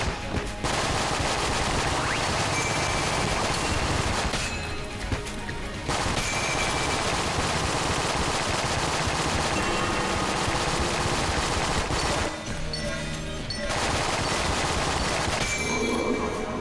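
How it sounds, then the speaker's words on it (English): Relentless gunfire from curving bullets in the twin-stick shooter Enter the Gungeon, dense rapid bursts of shots over game noise, loud and continuous with a few short lulls between volleys. "Damn your curvy ass bullets."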